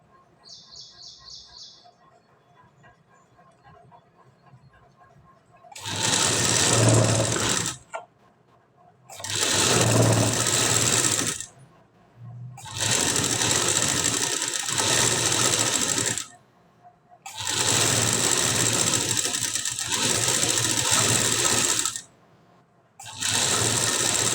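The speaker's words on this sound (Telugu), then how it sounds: "బిగినర్స్కి అయితే కొంచెం నిదానంగా స్టిచ్ వేసుకుంటే సరిపోయిద్దండి." A sewing machine stitches decorative dots in loud, close bursts of rapid whirring, about five runs of a few seconds each separated by short pauses, with faint background chirps and no speech.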